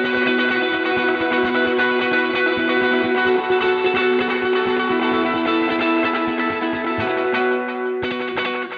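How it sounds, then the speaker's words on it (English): Electric guitar played through a Fender Reflecting Pool delay pedal, sustained chords ringing with dense repeating echoes and a wide ambient wash, steady and loud throughout before a brief dip and restrike near the end. "It is still a good delay regardless, without the reverb on the soundscape"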